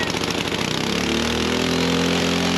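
A 1968 Ariens Sno-Thro snowblower engine with a governor problem runs loud and steady on its own, its rough, buzzing note rising and then settling into a sustained drone.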